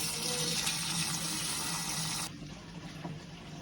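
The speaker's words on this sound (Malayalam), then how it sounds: "ഈ പുതിയ വെള്ളം നമ്മൾ മാക്സിമം ഇതിൽ നിറയ്ക്കാൻ നോക്കാം" Steady rush of fresh water filling an aquarium, continuous and fairly loud, then dropping to a softer, quieter flow partway through.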